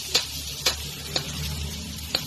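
Garlic, onion and ginger are sautéed in garlic butter in a pan for chicken arroz caldo, a steady sizzle broken by four evenly spaced clinks of a utensil against the pan.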